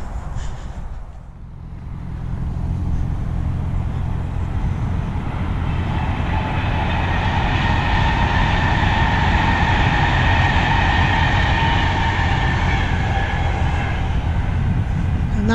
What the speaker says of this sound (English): And that's how close the railway line runs to the marina.